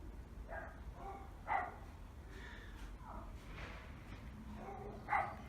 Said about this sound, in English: There's lots of dogs all around me. It's like a kennels around here at the moment. All small little yappy dogs.